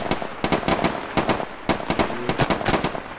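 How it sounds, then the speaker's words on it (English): Rapid sharp blasts and pops from gunfire and a grenade burst in the military shooter ArmA III, with irregular crackling reports following one another at moderate volume and no voices over them. "throw a grenade, get down"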